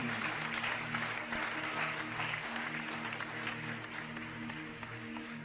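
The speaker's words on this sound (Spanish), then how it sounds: "Un aplauso fuerte al Dios que vive." A church congregation applauds during a Spanish-language sermon, steady dense clapping filling the hall at a moderate level, with a low sustained tone from the sound system running underneath.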